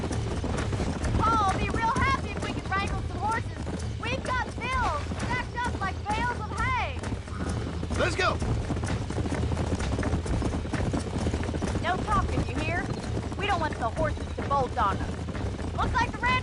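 Horses gallop in the Red Dead Redemption video game, their hooves drumming in a fast continuous clip-clop while voices call out and talk over the herd.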